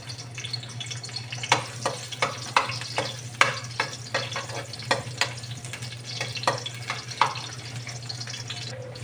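Garlic frying in hot oil while being stirred, a steady hiss over a low hum, with rhythmic spatula scrapes and taps against the pan repeating through most of the stretch.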